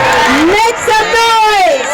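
Crowd at a Pakistani film industry award event cheering and whooping, with rising shouted voices sweeping up and down, loud and continuous throughout.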